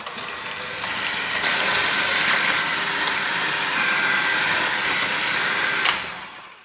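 An electric mixer whips egg whites into meringue for chocolate mousse, a steady whirring drone that runs continuously for several seconds at close range before cutting off.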